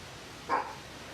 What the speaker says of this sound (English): Forgive the barks in the background.